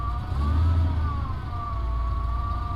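A Pontiac GTO engine warming up under light throttle, a steady low idle rumble that swells briefly with a gentle blip before settling back, close and continuous with a faint tonal whine above it.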